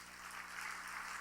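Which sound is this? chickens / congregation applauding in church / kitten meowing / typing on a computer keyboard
congregation applauding in church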